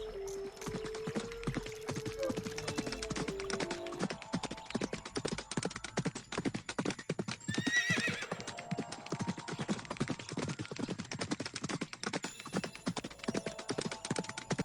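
Cartoon horse hooves clip-clopping in a fast, steady rhythm that runs throughout, with a brief whinny-like burst near the middle and some tonal effects early on.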